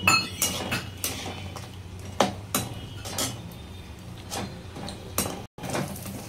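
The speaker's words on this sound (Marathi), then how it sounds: "आपले काजू छान असे लालसर तुपामध्ये तळून झाले आहेत। ते आपण आता काढून घेत आहोत।" A spoon scoops ghee-fried cashews out of a pan into a dish, giving a run of sharp, close metallic clinks and scrapes at an uneven pace, with no talking.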